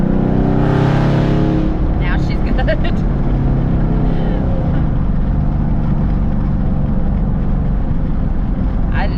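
A 2019 Whipple supercharged Camaro SS 1LE with long-tube headers, cold air intake and custom tuning drones loudly and steadily while driving, a constant heavy exhaust roar throughout, with someone talking over it.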